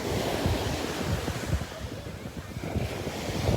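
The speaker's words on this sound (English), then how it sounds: "So these rocks basically break up large waves" Surf rolls and breaks against the rocks of a shoreline as a tropical storm approaches, a loud continuous wash with wind buffeting the microphone and irregular surges of crashing water.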